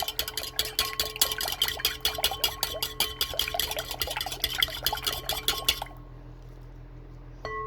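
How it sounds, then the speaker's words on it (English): Egg, milk and oil being beaten in a bowl for muffin batter, a fast, steady run of close clinks and taps of utensil on bowl that stops abruptly near the end. "I'm just going to beat this up a little bit, break up that egg."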